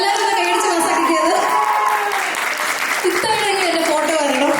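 An audience at an Easter stage program claps in a sustained burst of applause, with a voice talking over it.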